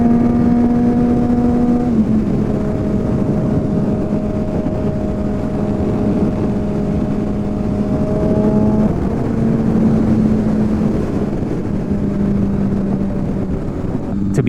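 A Honda CBR600RR motorcycle cruising at about 65 mph, a steady loud engine drone with a sustained tonal whine whose pitch dips slightly as the gearing shifts, heavily mixed with wind rush inside a helmet.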